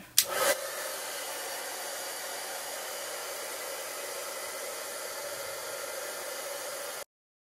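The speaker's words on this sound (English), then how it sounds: "going to plug my heat gun back in" A handheld heat gun melting embossing powder on a Christmas card blows a loud, steady whoosh that starts with a sharp click and runs continuously for about seven seconds before cutting off abruptly.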